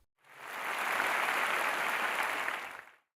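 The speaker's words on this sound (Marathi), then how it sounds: "विश्वास ठेवणारे टाळ्या वाजवा." A church congregation claps together in a dense burst of applause that swells, holds steady for a few seconds, then fades out, with no speech over it.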